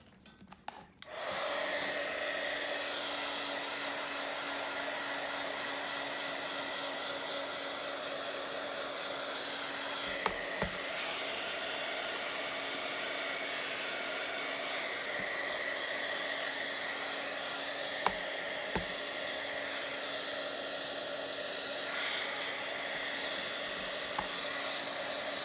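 A hair dryer blowing on a mixed media journal page, a loud steady whooshing whine that starts abruptly and runs continuously with a few small clicks, no talking.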